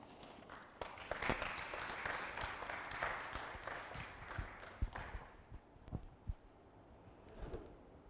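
An audience claps for a woman who has just finished a presentation, a scattered round of hand claps with some sharp individual claps, fading toward the end.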